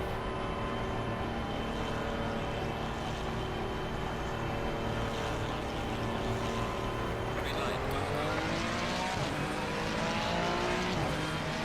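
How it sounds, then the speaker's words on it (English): A Porsche race car in a sim racing game, a continuous loud engine drone with several cars' tones layered, rising in pitch partway through as revs climb, steady and close throughout. "Here comes the Porsche."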